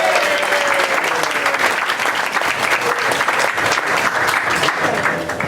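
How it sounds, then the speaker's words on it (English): Sustained audience applause fills a banquet hall at a 2013 family reunion in St. Croix, steady and dense throughout, with a faint voice briefly audible beneath the clapping. "Let's give them a round of applause."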